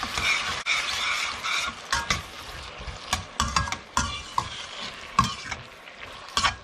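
Soy sauce being mixed into a sweet, sour and spicy Manchurian sauce in a pan for cauliflower, with repeated scraping and stirring strokes at an uneven rhythm over a soft sizzle, close and moderately loud, with no talking.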